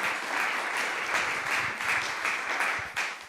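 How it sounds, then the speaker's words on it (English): A church congregation at All Saints Church in Pasadena applauding during a Sunday service, a dense, steady wash of many hands clapping throughout, fading slightly at the end. "We can clap it up for that."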